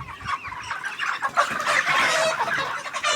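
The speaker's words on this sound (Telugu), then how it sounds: "చూడండి మా కోళ్ళు ఎట్టున్నాయో." Many 38-day-old chickens on a poultry farm cluck close by in a busy, overlapping chorus of chattering calls.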